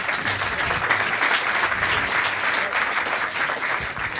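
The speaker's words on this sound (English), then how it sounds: "I would suggest for additional applause for encouraging him" A dense, steady round of audience applause greets a startup presenter at a pitch event, many hands clapping together at an even, sustained level with no speech on top.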